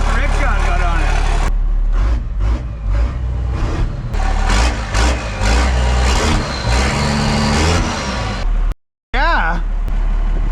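A 1975 Dodge D600 truck engine runs steadily with a rough, rickshaw-style exhaust, loud and close throughout, with voices talking over it and a brief dropout near the end.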